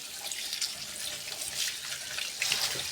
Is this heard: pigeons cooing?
no